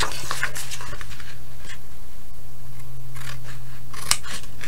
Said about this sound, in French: Je prends mon ciseau. Alors, moi, je ne me casse pas la tête pour couper.